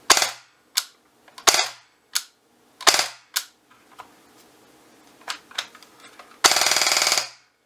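A VFC MP5 airsoft gun fires sharp, snappy single shots spaced apart, with small mechanical clicks between them. A quick three-round burst closes the sequence, heard up close with no talking.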